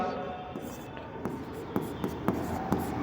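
A pen writes on paper in quick strokes, with taps and scratches at a fairly regular rhythm, close and quiet.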